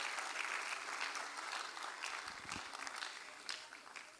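Church congregation applauding, a steady wash of many hands clapping at moderate distance, fairly quiet and continuous with a few low thumps midway.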